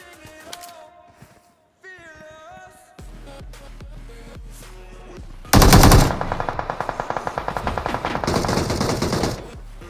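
Gunfire in the BGMI battle royale game opens with sparse single shots and game sounds, then erupts into loud, rapid automatic bursts and a sustained rattling volley that dominates the second half.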